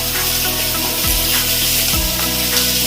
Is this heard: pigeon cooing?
no